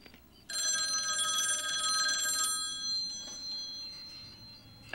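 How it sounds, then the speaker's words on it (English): A telephone bell rings loud and steady for about two seconds, then cuts off into faint room tone with light movement, in an indoor scene from a 1996 thriller film. "Phone's going to ring."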